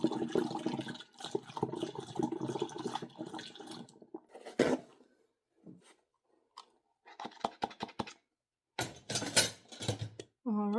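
Kombucha is poured into a bottle already holding juice, a gurgling liquid stream with glassy clinks in bursts broken by silences, and a voice talking over part of it.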